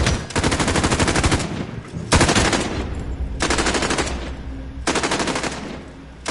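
A PKM machine gun in Call of Duty Modern Warfare fires four long, rapid sustained bursts separated by brief gaps, loud and close with no talk over it.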